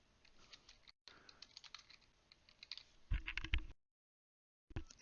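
Rapid clicking keystrokes on a computer keyboard, close and fairly soft, in uneven bursts with short gaps and no talk.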